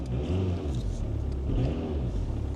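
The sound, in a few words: old diesel Audi engine running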